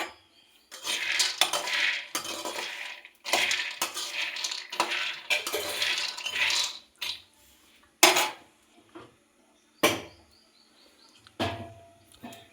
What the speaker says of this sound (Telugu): ఇలా పల్లీలను వేయించుకునేటప్పుడు కొంచెం మీడియం ఫ్లేమ్లో పెట్టుకొని వేయించుకోవాలి.